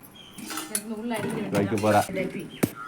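Containers and lids clink and clatter as they are picked up and put away at home, with voices talking over the handling.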